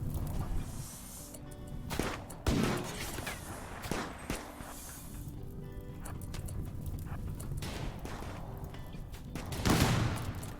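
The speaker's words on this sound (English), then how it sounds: "they're starting to really fire" Gunfire in a RimWorld colony battle, scattered sharp shots and short bursts popping irregularly over a busy background, with a louder cluster near the end.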